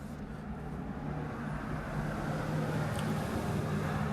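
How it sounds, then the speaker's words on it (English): Steady road traffic passes outside a house as a continuous low rumble and hiss, faint and distant, with no talking. "You hear all the traffic going by my house."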